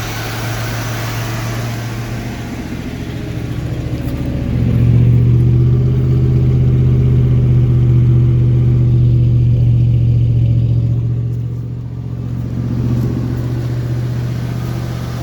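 The engine of a 1975 Ford Fairlane under restoration runs with a steady, loud idle hum, then revs up for several seconds and settles back toward idle.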